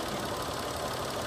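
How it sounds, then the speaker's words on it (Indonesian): The engine of a 2013 Mitsubishi Mirage Exceed automatic idles with a steady, even rumble and a busy mechanical whir, close and continuous with no voices. "Dan ini untuk suara mesinnya."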